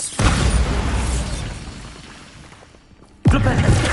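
A Bombarda spell explosion in Hogwarts Legacy on PS5: a loud, broad blast at the start that rumbles and fades over a few seconds, then a second sharp burst hits near the end.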